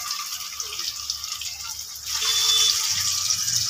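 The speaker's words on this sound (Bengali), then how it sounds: "এখানে ম্যারিনেশন করার চিলি চিকেনের পিসগুলো দিয়ে দিচ্ছে" Marinated chili chicken pieces go into hot refined oil; a soft background hiss jumps to a louder, steady frying sizzle about halfway through and holds close to the end, with no voices.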